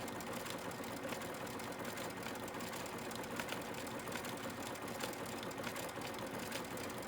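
A sewing machine runs steadily, stitching a decorative stitch that joins the inner and outer layers of a fabric bunny ear, with a fast continuous mechanical whirr close by and no talking.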